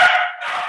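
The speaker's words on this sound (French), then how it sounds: "J'ai mon chien qui veut sortir." A dog wanting to go out gives a single drawn-out whine or howl, close and fairly loud, dipping briefly in the middle before continuing.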